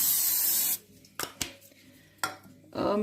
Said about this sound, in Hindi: तो अब हम इसको क्या करेंगे, हल्का सा स्प्रे करेंगे